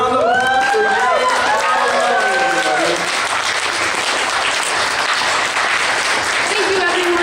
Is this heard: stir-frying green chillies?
no